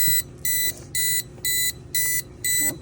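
Egg incubator giving six evenly spaced, loud electronic beeps in a steady rhythm, each about a quarter second long, with faint room noise between them.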